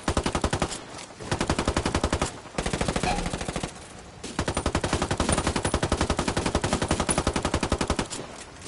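Heavy machine-gun fire from a video game on PS4 comes in long rapid bursts of evenly spaced shots with brief gaps, loud and close, and no voices over it.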